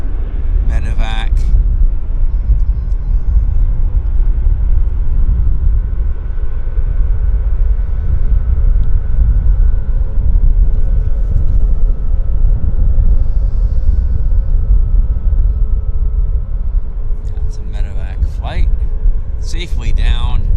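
A King Air medevac aircraft at Vancouver International Airport produces a continuous low, heavy rumble, with voices speaking briefly near the start and the end.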